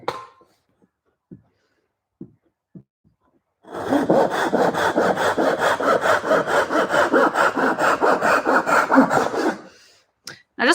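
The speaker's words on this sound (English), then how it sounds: "this is my filthy version of a little Japanese pull saw" A small, well-worn Japanese pull saw cuts through wood, a steady rhythmic rasp of strokes running for about six seconds, close and loud, with a few faint knocks before it starts.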